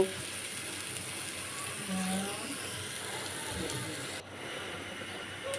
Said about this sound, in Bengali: পেঁয়াজটাকে হালকা একটু ভেজে নেব